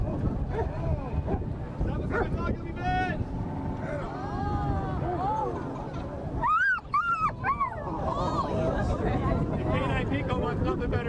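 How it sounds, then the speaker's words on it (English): A muzzled dog whimpers and yelps in short, high cries amid steady background noise and people talking nearby at an airport open house. "the dog's still going to go after him"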